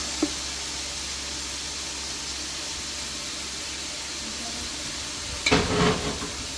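Chicken frying in hot oil with vegetables for a pulao gives a constant loud hiss and sizzle, briefly punctuated by a sharp clatter and a short burst of stirring near the end.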